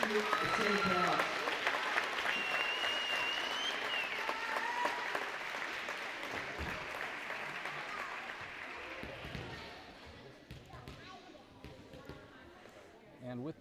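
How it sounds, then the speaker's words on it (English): Spectators at a girls' volleyball game in a gym clap in a sustained round of applause with bouncing echoes and voices mixed in. The applause gradually thins out, and a few scattered sharp bangs follow. "let's please have a big round of applause in support of Mrs. Harris"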